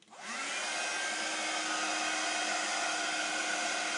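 A handheld heat tool blows hot air over oxide inks in a papercraft session, starting with a brief click and spin-up and then settling into a loud, steady whirring hiss close to the microphone.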